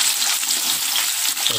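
Tofu fries in hot vegetable oil with a steady, bright sizzle and crackle, close and continuous, with a brief stir near the end.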